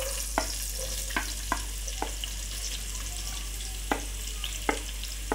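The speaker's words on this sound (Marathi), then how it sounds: "आपले हे अख्खे मसाले सगळे परतवून झालेले आहेत, तर इथे मी आता हे कांदा टाकणार आहे।" Chopped onion frying in a pan of oil with whole spices for a vegetable pulao, a steady broadband sizzle broken by several sharp clicks of a spoon stirring against the pan, with no talking.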